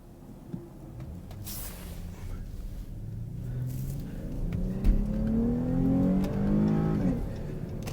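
A Chrysler 300 engine revs up as it accelerates into traffic, pitch climbing through gears, heard from inside over road rumble, steady and moderately loud.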